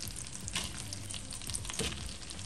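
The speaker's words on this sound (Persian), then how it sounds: "روی کره تکه های سیب زمینی رو میچینم" Potato pieces sizzle in melted butter in a pan for an Afghan ground-meat kebab, a soft, steady frying crackle with small pops and no talking.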